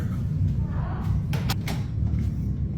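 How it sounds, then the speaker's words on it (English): A door slams shut in a dark backpacking setting, two or three sharp knocks and thuds cutting through a constant low rumbling background near the middle of the moment. "The door slams shut in front of him"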